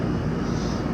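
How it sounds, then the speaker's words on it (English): An air conditioner compressor runs with a steady, loud, low droning hum, close by and alone throughout the short stretch. "compressor is running now"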